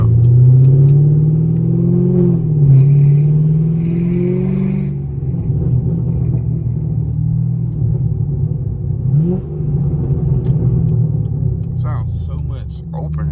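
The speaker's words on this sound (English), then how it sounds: "It sounds so much better like that." A catless Chevrolet Camaro SS rumbles loudly up close, its V8 exhaust droning and rising as it accelerates, with a deep steady growl that shifts pitch partway through; voices talk over the engine.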